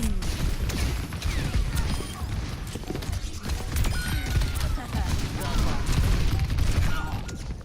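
McCree's gunshots in Overwatch 2 crack repeatedly through a busy match, mixed with clattering footsteps and other game effects, while a player talks over much of the action.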